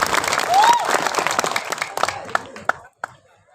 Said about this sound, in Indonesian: Tepuk tangan untuk PSHT.